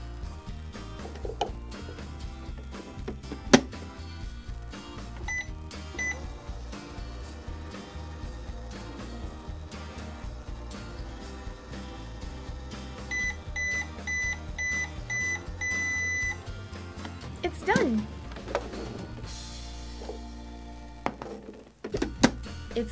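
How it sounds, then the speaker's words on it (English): A microwave hums steadily while heating a can of Play-Doh, with scattered clunks and ticks, then a few sharp beeps near the end. "We'll just put it in our microwave."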